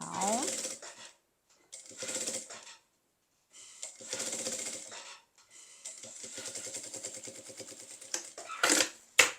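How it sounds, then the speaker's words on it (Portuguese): Sewing machine stitching along a zipper and fabric for a maternity toiletry bag, in several short bursts separated by pauses, with a louder clatter at the end. "Vou costurar aqui na extensão inteira do material."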